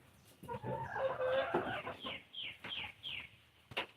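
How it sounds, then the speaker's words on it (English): Chickens cluck close by, a run of short, rising calls in quick succession with a louder squawk at the end. "Wonder how the chickens feel about it."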